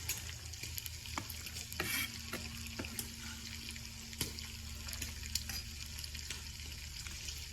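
Bacon sizzles and fries steadily in a pan for several seconds, with occasional clinks and scraping of stirring and a faint hum of water running nearby, no one speaking.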